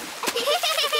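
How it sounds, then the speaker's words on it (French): Cartoon splash as a child character puts both feet into water, a sharp watery splatter followed by lighter sloshing, close and fairly loud. "Mais essaie de ne pas m'éclabousser."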